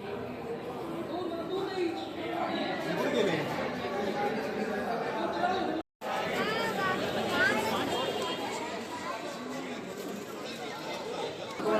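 Dense crowd chatter fills a busy street in Jaisalmer, many overlapping voices heard close and continuous, with a brief cut to silence near the middle before the hubbub resumes.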